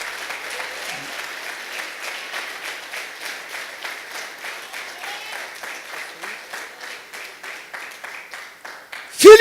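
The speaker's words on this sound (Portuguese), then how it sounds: "Aplauda mais forte" A church congregation applauds hard during a bishop's sermon, a dense run of rhythmic clapping that pulses steadily for several seconds before a brief loud knock at the end.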